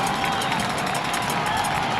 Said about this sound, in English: the crowd again on its feet